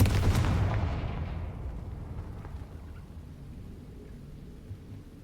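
A Confringo fire spell from Hogwarts Legacy bursts as one loud, deep blast, its booming rumble fading away over several seconds with nothing else heard.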